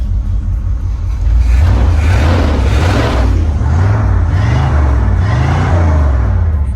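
The engine of an 84 Chevy Monte Carlo with a 350 motor revs under throttle, a loud close rumble rising and falling in several swells over a steady idle.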